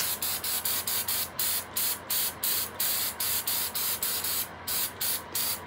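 Rapid bursts of coating spray hiss over Bondo filler on a vintage car body, a steady series of short, evenly spaced sprays from close range with no talking.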